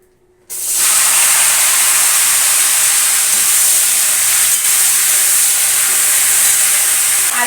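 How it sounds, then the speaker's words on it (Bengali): Cut okra (bhindi) dropped into hot oil in a pan, a sudden loud hissing sizzle that starts at once and stays steady and intense to the end. "এই যে ভেন্ডি কেটে রেখেছি ভেন্ডি ভাজা"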